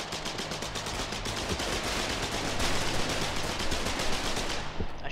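Sustained rapid gunfire from the Colonial Marines Foxhole video game, dense automatic bursts rolling continuously at loud, close range with no pauses and no talking.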